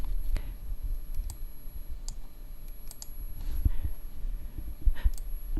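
Sparse, sharp mouse clicks ring out one at a time at irregular intervals while someone works in drawing software, close and fairly quiet over a low background hum.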